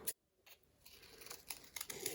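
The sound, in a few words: scissors cutting out paper hearts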